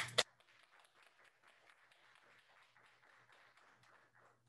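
Audience applause for students at a 2021 Phi Kappa Phi honor society induction ceremony at Marymount University: a soft, steady wash of clapping that follows one sharp opening sound and carries on faintly for several seconds.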